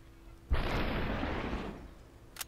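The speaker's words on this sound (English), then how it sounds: "No, that gun exploded somehow." A gun explodes in the video game SUPERHOT: one sudden loud blast that holds as a dense roaring burst for about a second, then fades out, with a faint click just after.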